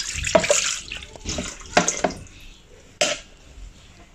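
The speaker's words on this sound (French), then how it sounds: "On va mettre l'eau." Water poured into a Thermomix bowl for a yeast starter, a close splashing gush in several uneven bursts with a sharp final splash, loud and alone.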